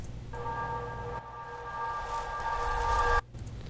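A video game's addiction sound effect, reversed and detuned: a sustained, eerie synthetic tone with layered pitched hums swells gradually louder, then cuts off sharply.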